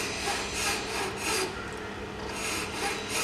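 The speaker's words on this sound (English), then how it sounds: "get a sharp file and just put it on top like so, and with the pressure in the middle of the frame, not out here, you just file back and forth" A sharp file is pushed back and forth with pressure on the middle of the frame of a TNN HS33 setup. The strokes rasp in a slow, repeating rhythm at close range, fairly quiet, with no speech.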